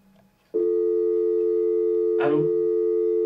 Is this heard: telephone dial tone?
yes